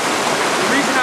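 River water rushes steadily around the corners of a bank, a close, loud, continuous broadband flow lasting the whole moment with no break.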